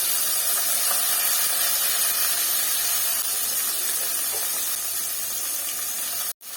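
Onions and tomato sizzle in a pan for idli sambar, a steady loud hiss that runs unbroken and close, then cuts off abruptly near the end.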